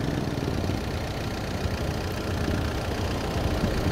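A Mitsubishi Strada idles with its aircon compressor running, a dense steady engine drone with faint rhythmic knocking, loud and close throughout.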